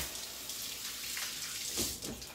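Running tap water pours steadily as something is rinsed off, with a soft continuous hiss and a brief louder splash near the end.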